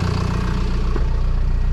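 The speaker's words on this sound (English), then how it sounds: "you'll see as I drive the dozer by" A bulldozer engine rumbles loud and close as the machine drives past, its deep steady diesel drone holding throughout.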